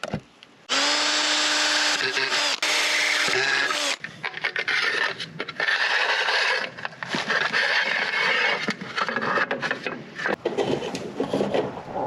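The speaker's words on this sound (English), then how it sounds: "I'm going to pre-drill the areas for my screws to mount this to the wall" A power drill whirs loudly in several bursts, spinning up and pre-drilling screw holes in a wall, biting into material with grinding, rattling texture, close and alone.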